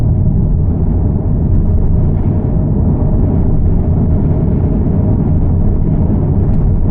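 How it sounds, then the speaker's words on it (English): Inside a moving Prius, a loud steady low rumble of wind buffeting the outside of the car, constant throughout with no talking. "you can hear a little bit of wind now, kind of on the outside of the car"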